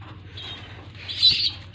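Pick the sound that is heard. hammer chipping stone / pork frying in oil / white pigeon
white pigeon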